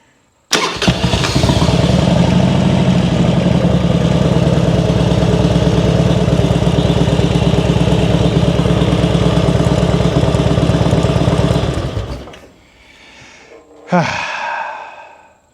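A 1999 Harley-Davidson Road King motorcycle engine starts and idles steadily with a rough, loping rumble, loud and close, then cuts off; a brief breathy sound follows.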